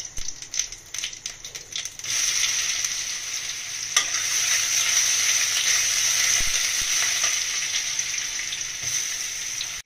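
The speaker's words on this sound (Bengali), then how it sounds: "পেঁয়াজটা একটু ভাজা ভাজা করে নিয়েছি।" Onion sizzles in hot oil in a wok with bay leaf and cumin, giving a steady, loud frying hiss with stirring scrapes that continues for several seconds.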